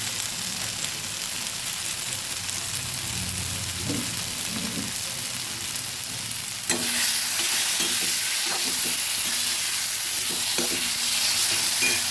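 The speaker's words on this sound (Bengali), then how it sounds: "ভালোভাবে নেড়ে দিচ্ছি" Curry with fried potatoes sizzling in a pan while being stirred, soft scraping at first, then a louder, steady frying hiss with spoon scrapes after a sudden jump.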